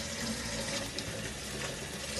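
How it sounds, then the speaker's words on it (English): Cold tap water runs steadily into a large bowl in a sink, a continuous rushing splash with no talking. "Then I put a large bowl in, fill it with cold water."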